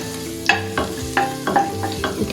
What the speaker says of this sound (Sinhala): භාජනයට තෙල් දාලා ඉස්සෙල්ලාම දානවා සුදු ලුණු